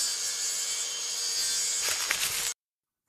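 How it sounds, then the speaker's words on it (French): A circular saw cuts a wooden floor panel with a loud, sustained high-pitched whine and rasp, gaining a few rougher bursts near the end before stopping abruptly into silence. "Tracez la coupe, puis rectifiez à la scie circulaire."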